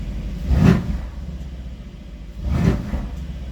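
A Mercedes GLC engine idles with a steady low rumble, swelling twice into brief, louder throttle blips a couple of seconds apart, heard close with no talking.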